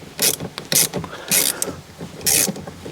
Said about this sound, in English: let me undo that bolt again